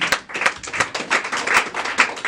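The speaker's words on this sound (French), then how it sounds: "Vos acclamations sont tellement faibles." A church congregation claps together in quick, fairly even rhythmic bursts, close and moderately loud, with no voices over it.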